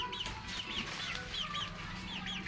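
A chicken clucks faintly in a string of quick, repeated calls over steady low background noise, with no speech heard.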